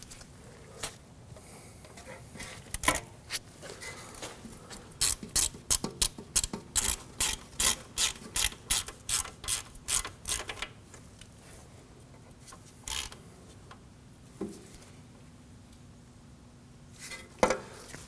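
A ratchet with a 10mm socket snugging a bolt on a 2013-2015 Subaru XV Crosstrek during front wheel bearing work, giving a quick run of sharp, close clicks followed by a few scattered single clicks.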